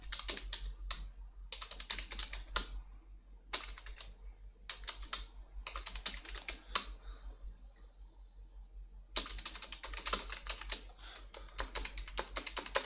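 Quick bursts of typing on a computer keyboard while entering names into an MS Word document, fast clattering key presses in several runs separated by short pauses, close and clear over a low steady hum.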